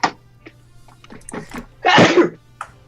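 A single loud sneeze bursts out near the microphone after a few faint sounds, heard alone with no talking.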